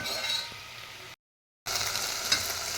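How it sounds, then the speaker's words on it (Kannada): Chopped gongura (sorrel) leaves frying in a pan for a village-style palya, a steady close hiss and sizzle broken by a brief silent cut, then resuming with a faint clink of a utensil. "ಕಟ್ ಮಾಡಿ ಪುಂಡೆ ಸೊಪ್ಪನ್ನ ಹಾಕಿ ಒಂದು 2 ನಿಮಿಷದ ಕಾಲ ಫ್ರೈ ಆಗಬೇಕು"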